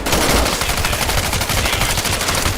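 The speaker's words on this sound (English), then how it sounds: "Reach over your shoulder and grab your M. Fire away." Rapid automatic rifle fire in a VR military shooter game, a loud dense burst of shots rattling continuously without pause and filling the whole stretch.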